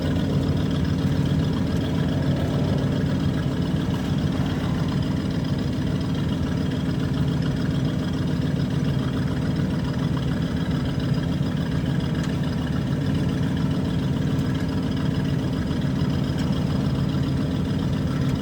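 An RV engine drones steadily while the vehicle drives, a loud continuous low rumble with no breaks throughout.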